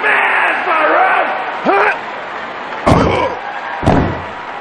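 Wrestler Billy Gunn slammed to the mat in the N64 video game WWF Attitude: two heavy thuds near the end over a steady roaring arena crowd, after an announcer talks at the start.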